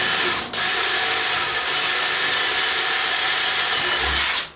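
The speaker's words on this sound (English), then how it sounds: "A little pre-drill." A power drill with a 1/8 inch bit pre-drills a hole in plywood for a skate quarter pipe ramp, its steady high whine running almost the whole time, close and loud, with a brief dip near the start.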